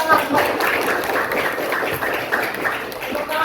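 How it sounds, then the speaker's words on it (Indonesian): A classroom of students applauds with dense, continuous clapping that lasts throughout, close and loud, with voices mixed in over the clapping. "Tepuk tangan."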